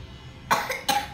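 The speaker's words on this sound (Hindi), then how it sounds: "खांसी बहुत गंदी है" Two quick, close coughs in a row from one person, short and harsh.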